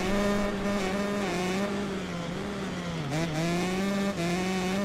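Husqvarna 125 two-stroke motocross bike in MXGP Pro, its crisp, buzzing engine note held loud and close, rising and dipping steadily as the throttle is worked, with no talking.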